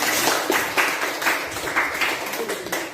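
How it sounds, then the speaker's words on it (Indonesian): A classroom full of students applauds together, a dense, steady wash of hand clapping lasting a few seconds with small swells in loudness and no voices over it. "berikan aplaus untuk kita semua"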